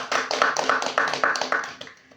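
Students in a school talk show audience clap together, a quick run of sharp, fairly close hand claps with a slightly rhythmic pattern that fades out after about two seconds.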